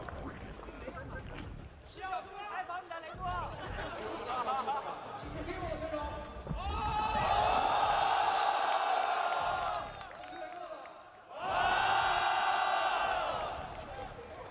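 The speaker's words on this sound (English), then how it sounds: "Just enjoying listening to the crowd" A large indoor StarCraft II esports arena crowd swells into loud cheering in two waves, with chatter and voices between the bursts.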